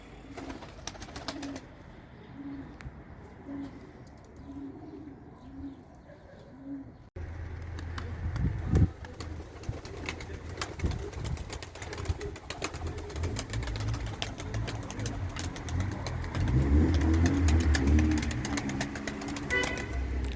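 Turkish tumbler pigeons (yanar döner) coo in a soft, regular series of low calls early on, then louder outdoor rustling and noise take over, with the cooing faint beneath it.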